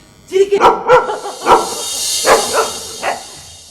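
A dog barks at night, about seven sharp, fairly close barks in an irregular rhythm, with a faint high hiss behind them.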